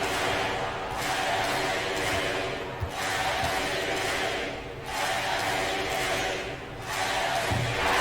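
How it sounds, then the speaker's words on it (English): Basketball arena crowd chanting MVP at a college game, a loud, rhythmic, repeated chant rising and falling in regular waves throughout, filling the space and heard alone. "Cameron getting MVP chance from the crowd"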